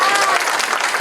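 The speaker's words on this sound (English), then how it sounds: "that sounded like you were applauding your 8th grade son graduating" Wedding guests applaud the bride and groom, a brief, steady burst of crowd clapping filling the room at moderate loudness.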